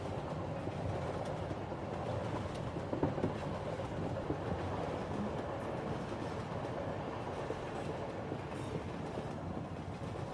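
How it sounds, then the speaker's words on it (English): A train rolls steadily along the tracks at night, a continuous dense rumble with faint rhythmic clatter from the rails, unbroken and fairly even in loudness throughout. "As the train tracks scuttle past below you"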